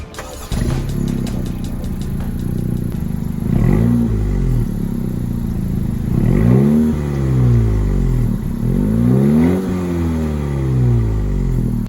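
A 2020 Honda Civic Si engine with stock factory exhaust idles low and steady, with a few moderate revs rising and falling; the exhaust stays fairly subdued throughout.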